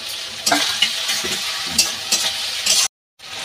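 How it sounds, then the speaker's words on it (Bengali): Chopped tomatoes hiss and sizzle in a hot pan while a spatula scrapes and stirs through them, a steady close frying sound with a brief gap near the end. "এই যে টমেটো কুচিটা আমি দিয়ে দিচ্ছি, ছোট ছোট 3টে টমেটো আছে।"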